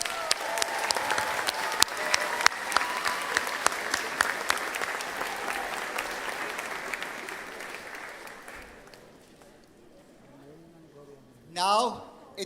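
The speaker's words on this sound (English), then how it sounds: "Let's give them a heartfelt round of applause for their unwavering love and support." A graduation ceremony audience for a pharmacy class of 2025 applauds warmly, a dense wash of clapping that gradually thins and fades before a voice speaks near the end.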